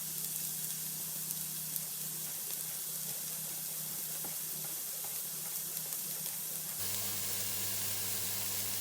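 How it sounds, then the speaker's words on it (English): Onions frying hot in a pan, a dense continuous sizzle and hiss that holds steady throughout, close and fairly loud, with no voices over it. "we're going to cook a little bit hotter than you normally would if you're just sweating down onions"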